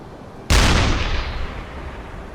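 A single heavy report from a U-boat deck gun firing at a ship in a naval video game, one sharp loud boom with a long rumbling decay that fades over the following seconds.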